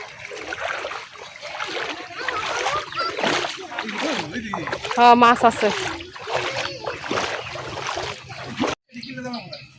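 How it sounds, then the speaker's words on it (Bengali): Feet splash and slosh through knee-deep floodwater in a steady walking rhythm, close by, mixed in with a man's chatty conversation that runs over most of it. "দেখেন আমরা কি পানি দিয়ে আইটাইতেছি।"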